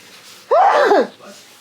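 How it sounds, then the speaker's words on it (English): One short, sharp sneeze bursts out, close and sudden, with quiet background before and after. "I'm gonna sneeze."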